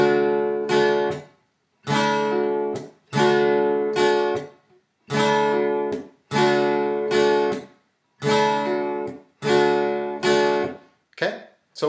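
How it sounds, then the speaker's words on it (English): Acoustic guitar chords strummed in a repeating down, mute, down, up, mute pattern with a hammer-on, bright and close, each bar of strums cut off by short muted gaps in steady rhythm, no speech. "let's try playing both the hammer-on and that strumming pattern together"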